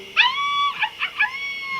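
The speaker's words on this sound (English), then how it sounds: "As I crashed into the coyote, it howled." Coyote howling after being struck by a bicycle on a road, a single close, wavering high-pitched cry that rises, breaks into several yelping bursts, then trails off in a long sustained tone.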